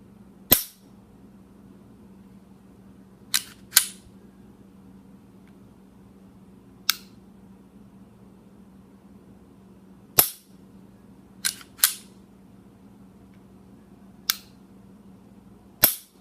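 A Diamondback DB9 pistol's trigger snaps with sharp, isolated clicks, about ten of them at uneven intervals over a quiet room hum, crisp and close with no talking.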